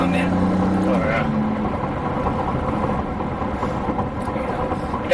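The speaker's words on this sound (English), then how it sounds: "Definitely has really big turbos on the car to give you that turbo noise when accelerating." Engine noise from the mid-mounted twin-turbo V6 of a Maserati MC20, heard from the cabin as a steady low drone with a whistling rise as it accelerates, while people talk over it.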